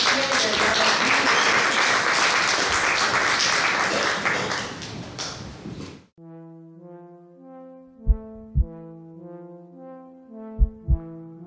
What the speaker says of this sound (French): On peut tous applaudir parce qu'ils sont essentiels dans la vie.